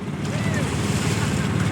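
Rough sea slaps and washes around a wooden fishing boat, a continuous loud roar of waves mixed with gusting wind noise right up close.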